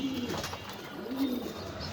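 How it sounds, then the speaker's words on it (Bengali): A pigeon of a special fancy breed coos in a loft, two soft, low, rolling coos close by, with faint room ambience between them. "এখানে দেখাচ্ছে একটা স্পেশাল কবুতর যাকে আমরা বলি"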